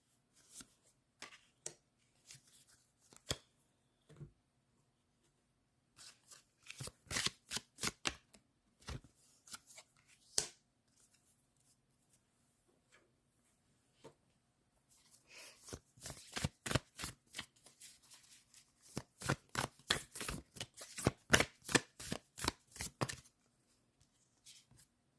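Oracle cards are shuffled in repeated bursts of crisp riffling and flicking, sparse at first and then in quick dense runs, close and quiet with no talking.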